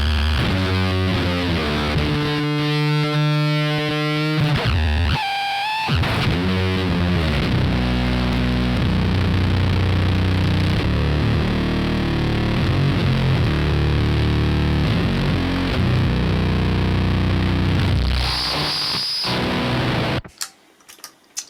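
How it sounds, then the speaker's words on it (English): An electric guitar runs through a MASF Epilepsy oscillating fuzz pedal, producing a loud, chaotic wall of distorted fuzz with warbling, pitch-sweeping oscillations and squeals that swell and shift for about twenty seconds before cutting off abruptly. "It's an oscillating fuzz, super mad, and it's a mayhem generator"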